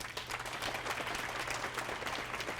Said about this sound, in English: would you please give a warm round of applause and welcome our superintendent, Mr. Mike Poor